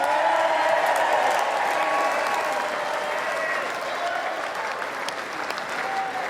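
A crowd at a lawn bowls final applauds warmly as the trophy presenter is welcomed, with steady, dense clapping running throughout at fairly close range.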